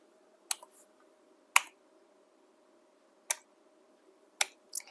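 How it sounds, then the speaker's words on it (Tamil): Computer keyboard typing comes as five sparse, sharp key clicks spaced irregularly over a quiet background hum. "இப்போ ரம்யான்னு டைப் பண்ணிட்டோமா?"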